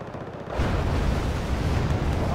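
Artillery fire in Wargame: Red Dragon erupts about half a second in as a deep, rumbling barrage of booms that rolls on continuously to the end.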